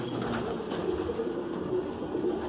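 A racing pigeon coos softly in a loft, a low, rolling burble repeating steadily against a constant background hum.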